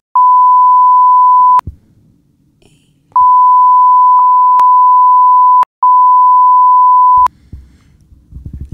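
Long, steady electronic beeps at a single pitch sound in three stretches, broken by short clicks and silent gaps, loud and alone with no voices, like keypad tones dialing a phone number.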